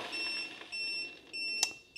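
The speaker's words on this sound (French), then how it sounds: "j'ai réussi à la mettre en défaut." Allpowers R4000 portable power station overload alarm sounding after being pushed to about 4600 watts, a faint run of high electronic beeps in several short bursts with one sharper chirp near the end.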